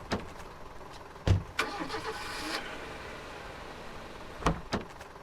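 A Doom truck engine in the Foxhole war video game cranks and starts with a couple of sharp mechanical clunks, then settles into a mid-pitched idle, followed by more clunks near the end.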